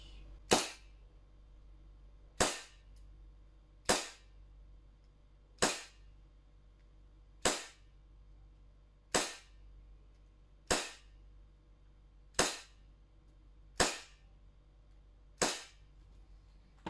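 A Tanio Koba KJW Colt 1911 airsoft pistol fires 0.20 g BBs through a chronograph at 8 bar from a compressor: ten sharp, evenly spaced pops about two seconds apart, close and distinct over a low background hum.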